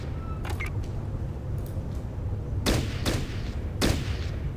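Gunfire from a squad firing line in the Fallout Tactics video game: sharp cracking shots over a low ambient rumble, a few faint early bursts, then three louder separated reports in the second half.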